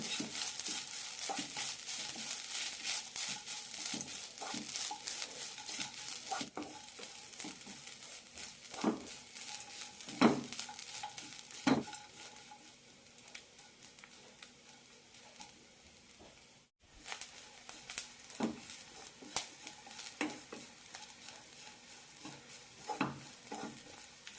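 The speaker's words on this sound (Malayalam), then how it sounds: "തേങ്ങ നല്ല ചുവക്കനെ വറുത്തെടുക്കണം" Grated coconut with curry leaves and small onions roasts on high flame in a pan, a continuous dry sizzle broken by periodic scraping stirs, close and steady with no voices.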